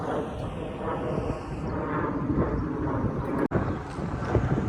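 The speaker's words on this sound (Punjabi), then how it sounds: "ਹਵਾ ਵਗਣੀ ਸ਼ੁਰੂ ਹੋ ਜਾਂਦੀ ਐ ਇਸ ਵੇਲੇ" Rough, constant wind rumble buffeting the microphone near Riyadh airport, Saudi Arabia, with a low engine-like drone under it and a brief dropout near the end.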